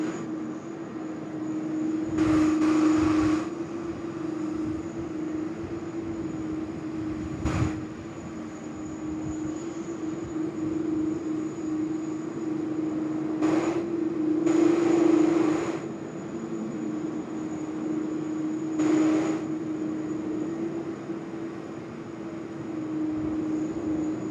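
A QantasLink Boeing 717 lands on runway 16 right at Sydney, heard as a steady, distant jet roar with a constant engine hum, swelling slightly midway, broken by a few brief gusty bursts.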